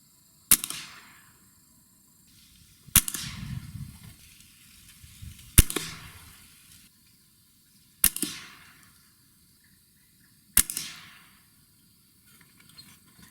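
Gamo Gen3i air rifle firing H&N Rabbit Magnum pellets at a target, five sharp cracks spaced about two and a half seconds apart, each followed by a short fading ring, with quiet in between.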